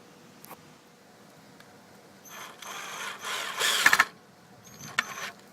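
A small power drill whirs in short bursts while drilling into a handle, with one longer, louder run in the middle and a brief final spurt.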